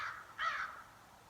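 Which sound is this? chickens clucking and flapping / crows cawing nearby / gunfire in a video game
crows cawing nearby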